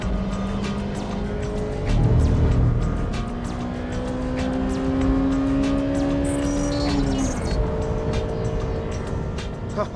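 Honda Civic Type R at full throttle on a race track, its engine droning steadily as revs climb through the gears, with tire squeal and a shift about two-thirds of the way through, close and loud throughout.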